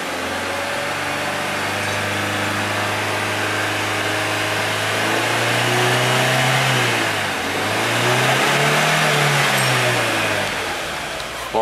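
Idling petrol car engine, one of a 2012 Renault Mégane 1.6 16v, 2013 Chevrolet Agile 1.4 8v or 2008 Tracker 2.0 16v, held at a steady raised rev around 4,000 RPM, loud and close, with pitch dipping and rising twice near the end.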